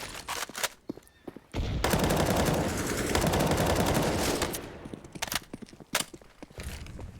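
Sustained bursts of automatic rifle fire trade back and forth in a CS:GO match on the Inferno map, with sharp single shots leading into a dense, loud volley that thins out into scattered cracks.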